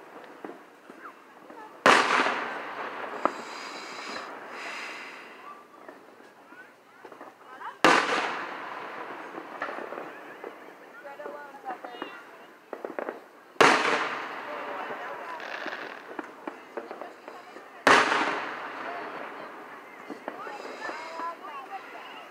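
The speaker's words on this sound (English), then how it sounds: "Setting the fireworks on there." Fourth of July fireworks at an annual 2020 show burst loudly four times at roughly five-second intervals, each sharp crack trailing into crackling and rumble, with wind noise and people talking in between.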